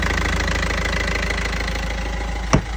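A Yanmar diesel engine runs steadily at idle after being started, a loud continuous throb with an even knocking rhythm and one brief sharp knock near the end.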